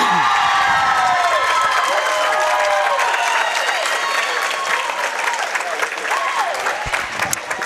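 A crowd at a high-school swimming meet between Seneca Valley and Butler cheers and applauds loudly and steadily. Shouts and whoops rise over sustained clapping throughout, with a reverberant indoor pool feel.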